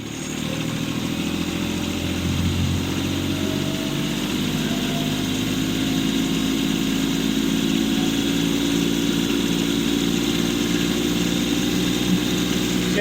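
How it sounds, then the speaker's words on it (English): Kubota compact tractor with a PTO-driven snow blower running at 540 RPM, a steady loud diesel drone with spinning blower hum, close and unbroken with no talking. "I've got the blower spinning. I'm going to rev her up to 540 RPMs."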